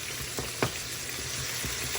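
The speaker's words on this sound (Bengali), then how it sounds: "তো 1 মিনিট ভাজা করলেই হয়ে যাবে।" Asparagus with chili flakes fries in a pan with a steady, quiet sizzle, broken by a few soft clicks and stirring taps.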